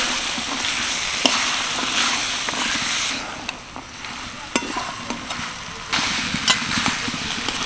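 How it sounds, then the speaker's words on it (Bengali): Fried potatoes and spices for chickpea ghugni stirred in a hot pan, giving a steady sizzle broken by the scrape and clack of the spoon against the metal, with no voices. "সব কিছু দেওয়ার পর 1 মিনিট আমি নাড়াচাড়া করে নিলাম"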